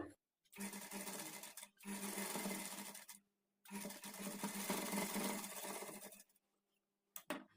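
A sewing machine stitching blouse sleeves runs in three steady bursts of close, continuous whirring, separated by short pauses and ending in a brief final spurt.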